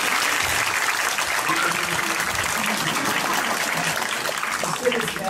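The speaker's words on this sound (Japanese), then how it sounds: "皆さん拍手お願いします" Sustained applause from an audience at a live Eisa drum-dance performance, dense and steady throughout at fairly close range, with no talking over it.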